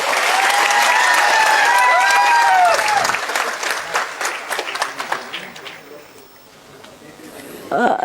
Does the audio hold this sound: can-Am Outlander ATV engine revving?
no